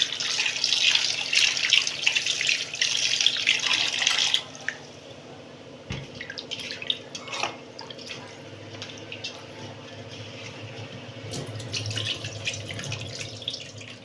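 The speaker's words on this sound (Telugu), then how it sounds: "ఇంకొకసారి నార్మల్ వాటర్ పెట్టి వాష్ చేసుకోవాలి" Chicken pieces are washed under a running kitchen tap: a loud, steady gush of water for about four seconds, then softer splashes, drips and handling noises up close.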